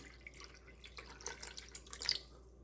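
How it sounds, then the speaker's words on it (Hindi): Water dripping and splashing softly as fresh curdled chhena is rinsed in cold water for rasmalai, faint irregular drips and trickles close by with no talking. "मैं अब इसको 3-4 पानी से धोती हूँ।"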